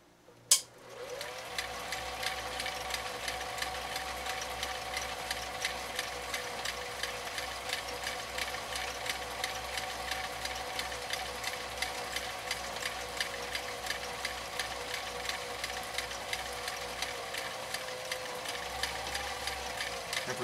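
A 1955 Viking Type 21 sewing machine, 1.5 amp, runs steadily after a sharp click at the start, its motor humming with rapid even stitching pulses throughout before slowing slightly near the end.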